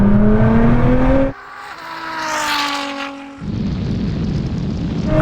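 Two cars, a Ferrari SF90 and a 1000 hp Nissan GTR, accelerate hard in a rolling race from 50 mph, one engine note rising steadily in pitch, then a loud rushing swell as a car passes close by, with no one speaking.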